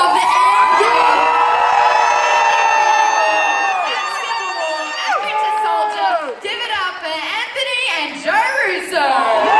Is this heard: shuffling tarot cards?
no